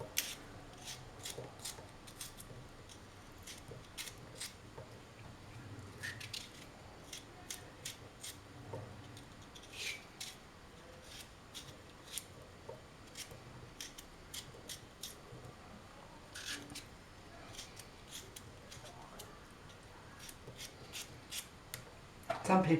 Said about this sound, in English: I've done my potatoes, cut them up, chop that in the same way